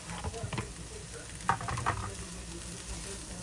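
Chopped capsicum and green chilies are stirred in a hot pan, with faint sizzling and a few soft scraping clicks of the spoon against the metal, fairly quiet and close with no talking.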